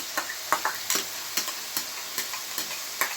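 Onions stirred into hot ghee with minced meat in a pan, giving a steady sizzle broken by regular scraping strokes of a spoon, about one every third of a second, close and moderately loud.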